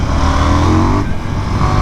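A loud, close engine drone from a 2024 KTM Duke 990 motorcycle climbs steadily in pitch as it accelerates with traction control off, then shifts and pulls on with a rough, buzzing tone.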